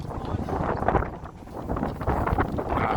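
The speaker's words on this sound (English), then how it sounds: "It's just too windy." Strong wind buffets the microphone outdoors on a Blackpool street, a loud, continuous rumbling roar that surges and dips throughout.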